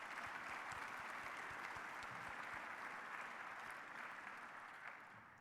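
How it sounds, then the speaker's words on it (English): An audience at a keynote event applauds continuously, a dense even roar of many hands clapping that tapers off toward the end. "Let's please give him, Mr. Deasy, a round of applause."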